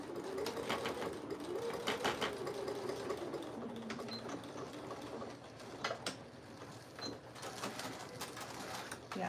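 A sewing machine stitches a quilt at a quarter-inch seam, its fast mechanical whirring running in bursts close by with brief pauses between runs.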